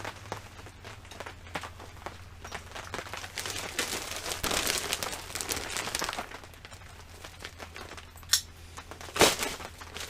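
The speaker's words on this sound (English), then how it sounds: "Let me open my bag." A bag holding motorcycle windscreen parts is opened with faint, close crinkling and rustling that comes in bursts, and a couple of sharper clicks near the end.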